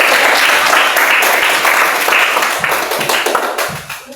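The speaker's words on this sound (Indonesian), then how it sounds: "Ya, kita kasih tepuk tangan sayang." A class of students in a Christian religious education lesson claps hands together, loud and close at first, then loosens into scattered, uneven claps that taper off toward the end.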